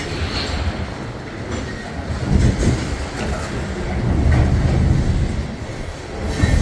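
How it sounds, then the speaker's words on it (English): A southbound tanker train rolls past 23rd Street in Kansas City, Missouri, with a steady, loud rumble of heavy cars and wheels that swells at a few points and runs on throughout. "Southbound tanker train."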